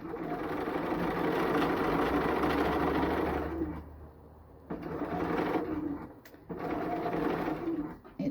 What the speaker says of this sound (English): So now I can take and I can sew right down here on my other side.